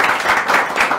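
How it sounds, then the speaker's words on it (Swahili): Short burst of audience applause for boxer Rayton Okwiri in a studio show setting, steady dense clapping throughout the second with slight swells, loud and close. "Wapi makofi ya Rayton Okwiri?"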